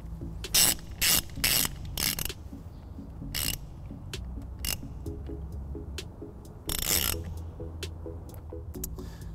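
A hand ratchet tightening a trailer wiring fitting on a 2017 Dodge Grand Caravan, with short clicking bursts repeated irregularly at close range over a low background hum.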